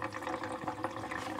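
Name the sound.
old gasoline being poured out of a Triumph Spitfire fuel tank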